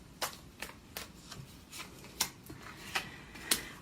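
Tarot cards being shuffled and drawn, close and quiet: a series of sharp papery snaps and flicks at irregular intervals, about eight in under four seconds, with no talk.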